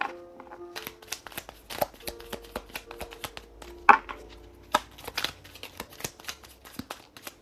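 Pure Love Oracle cards are shuffled by hand in a quiet room, a run of crisp riffling flicks and soft slaps, some sharper than others, close and alone.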